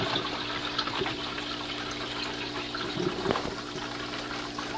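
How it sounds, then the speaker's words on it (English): Water draining from one hydroponic tank down into the next, a steady gushing, trickling flow with faint gurgles, continuous and moderately close. "And now our first tank is draining."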